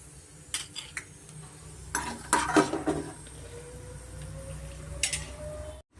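Crisp fried peanuts are scooped from a pan into a bowl for vegetable avalakki, with a cluster of metal scrapes and dry clattering clinks over a faint lingering sizzle.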